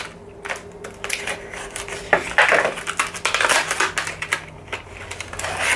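A Milwaukee utility knife cuts open the crinkly packaging of a Milwaukee Fastback utility knife, producing close, busy crackling, tearing and rustling with clicks that grow denser and louder midway, with no talk.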